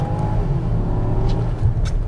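A 13-year-old Porsche Cayenne Turbo S (955) engine runs loud and close, a deep steady rumble with a faint rising whine, no talk over it.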